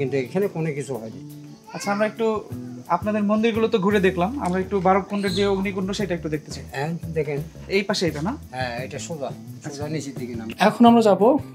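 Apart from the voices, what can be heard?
No everyday noise stands out behind the speech.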